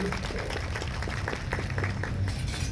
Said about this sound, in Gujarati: આ સ્થળેથી એમનો બધા તાળીઓના ગડગડાટથી એમને વધાવીએ.